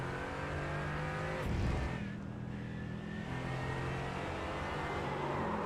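An AMG race car in a sim racing game at Hockenheimring has its engine held on the throttle in a loud, steady multi-toned drone. One sharp surge and a brief dip break the sound midway, and no voice is heard.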